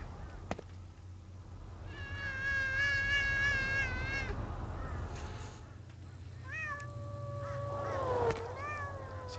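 Cats meow in the video game Thirty Flights of Loving, a few separate rising-and-falling calls over a low background hum, fairly close and clear.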